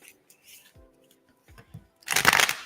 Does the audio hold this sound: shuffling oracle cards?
yes